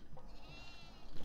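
A goat in the horror video game Devour gives a short, wavering bleat, moderately loud and close, with no talk over it.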